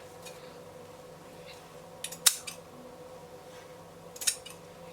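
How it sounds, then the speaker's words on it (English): Two short, close snips of scissors cutting fabric for a ruffled short shirt gown, a couple of seconds apart, each a crisp slicing scrape over a quiet room with no talk. "And cut this side out."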